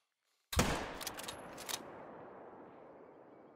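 A gunshot fired at a kangaroo in the hunting game theHunter: Call of the Wild: one sharp, loud blast followed by a few quick echoing cracks, then a long reverberant tail fading out.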